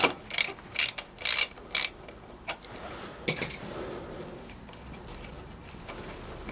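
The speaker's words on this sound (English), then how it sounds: "So if I get my socket into that, and we'll get that undone." A socket ratchet undoing a small 8mm bolt on the front brake fluid reservoir of a Honda CB650R motorcycle: four quick bursts of close, sharp clicking in the first two seconds, then a softer click amid quiet workshop background.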